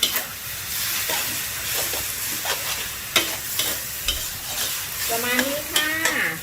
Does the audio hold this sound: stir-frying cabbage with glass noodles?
yes